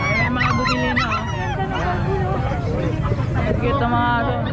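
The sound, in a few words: dogs barking at an exotic pet market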